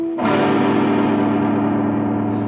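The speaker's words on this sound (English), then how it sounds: "using the hairband with overdrive, if I start doing a bit of tapping" An overdriven electric guitar with a hairband damping the strings sounds one sustained, distorted tapped note after a brief quiet start, thick and loud for about two seconds with no voice.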